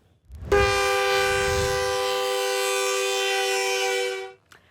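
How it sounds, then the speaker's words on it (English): A train horn blares at a rail crossing along the Wasatch Front, one long, loud, steady tone holding for about four seconds before cutting off, with no talk over it. "the constant blaring of train horns at rail crossings"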